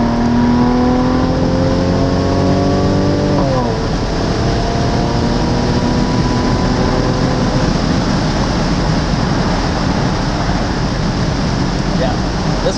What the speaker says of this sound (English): So let's give it a couple more downshifts and see how it feels.